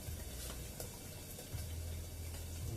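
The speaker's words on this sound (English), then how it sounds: "put some water in there" Water runs steadily from a tap into a pan for washing up at a kitchen sink, a continuous low splashing fill with faint rattles, fairly quiet and unbroken throughout.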